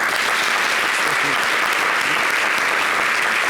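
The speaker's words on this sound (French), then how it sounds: "applaudissez pour lui" A live show audience applauds a young manager seated in the room, a dense, steady wash of clapping that fills the whole stretch without pause.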